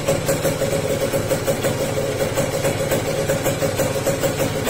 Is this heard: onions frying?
no